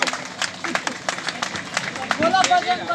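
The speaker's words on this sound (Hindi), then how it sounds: "तो जोरदार तालियां बजा दो भाई इनके लिए" A crowd claps at a temple gathering in Chhatarpur on Sharad Purnima night: a loose, uneven patter of many hands at close to middling distance, mixed with crowd murmur and a voice speaking over it.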